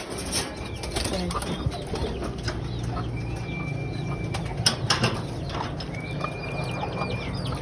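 Pigeons, two of them parents brought from Manila, flap their wings after being tossed for release, a busy fluttering rustle of wingbeats over steady outdoor background noise, with short chirpy whistles and some distant clatter.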